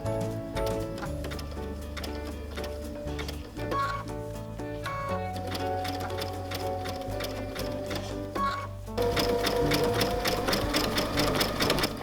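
A sewing machine runs a zig zag stitch for raw edge applique, a rapid rhythmic ticking hum that stops and restarts with pauses for pivoting, growing louder and busier in the final stretch.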